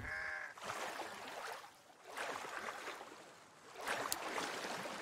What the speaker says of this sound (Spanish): Hemos salido aquí donde los patos